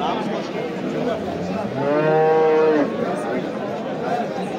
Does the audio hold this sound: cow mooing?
yes